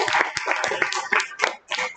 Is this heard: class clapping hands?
yes